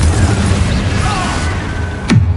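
Confringo blasting spell from Hogwarts Legacy detonating in a sharp, loud burst near the end, heard over a steady rumbling game soundscape with dense background noise.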